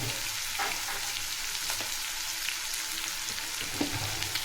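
Red chili powder and spices fry in hot oil in a pan, giving a steady, close sizzle with faint stirring scrapes and no talking.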